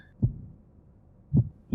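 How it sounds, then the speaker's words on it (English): Two slow, heavy heartbeat thumps about a second apart from a dramatic story moment in the video game Fire Emblem: Three Houses, low and muffled against near silence. "you could hear the heartbeat"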